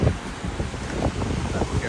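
Wind gusting at the beach by the sea in Nice, a steady broadband rush and buffeting close to the microphone, with distant surf underneath.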